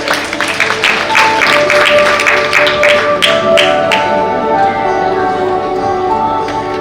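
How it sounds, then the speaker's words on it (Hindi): An audience applauds a speaker onto the stage at a formal India-Vietnam friendship event; dense clapping fills the first four seconds, then fades as steady tonal music carries on beneath. "जोरदार तालियों के साथ इनका स्वागत।"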